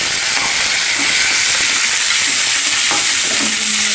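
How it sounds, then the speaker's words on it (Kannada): Onion, green chilli and tomato frying in a pan for rava upma, a loud, dense, steady sizzle and hiss close up, with a few faint scrapes of stirring near the end. "ಹಾಕೊಂಡು ಕಂದು ಬಣ್ಣ ಬರ್ತಕ್ಕ ಹುರಿಬೇಕು ರೀ."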